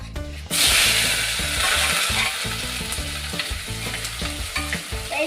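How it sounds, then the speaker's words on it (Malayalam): Tomato, garlic, shallots, green chilli and curry leaves fry in hot oil for a sardine curry, a loud continuous sizzle with stirring scrapes throughout after a brief quieter start, no voices. "തക്കാളി, വെളുത്തുള്ളി, കൊച്ചുള്ളി, പച്ചമുളക്, കറിവേപ്പില നമുക്ക് ഇട്ടാലോ ഗൈസ്?"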